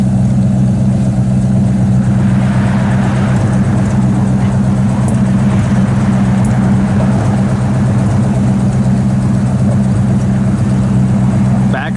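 A 1964 Ford Fairlane 500 Sport Coupe with a four-speed and exhaust manifolds idles steadily through dual exhaust, a loud, even low rumble running throughout, with a voice talking faintly over it.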